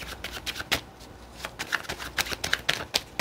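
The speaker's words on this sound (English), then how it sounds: "Shuffling for the Capricorn Collective." A deck of tarot cards is shuffled by hand, giving rapid, close riffling bursts in an uneven rhythm, each flurry a quick papery flutter repeated many times.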